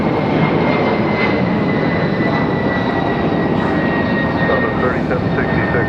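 A jet airliner departs Raleigh Durham International Airport, its engines a loud, sustained roar that holds steady and near throughout, with talk faintly mixed in.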